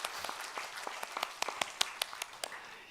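A Christmas Day church congregation gives scattered, fairly faint applause, a few distinct sharp claps standing out over a soft wash of hands for a few seconds.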